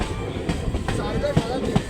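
The Doon Express runs along the track with a steady rumble, and irregular wheel clacks thump through it at close range. A faint murmur of voices sits underneath.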